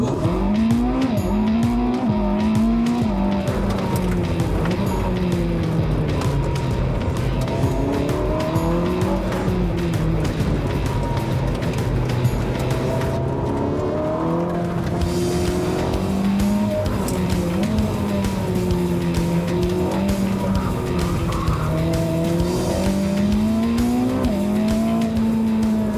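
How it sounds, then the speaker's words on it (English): Ferrari SF90 Stradale in race mode with manual shifting, driven hard in Singapore: a loud, continuous engine roar rising and falling through gear changes, with tire noise, close and dominant throughout. "So I'm going to put the car into race mode."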